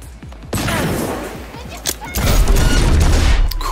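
Rapid gunfire in the video game Cyberpunk 2077 crackles in loud close bursts over a dense rumbling din, growing heavier toward the end.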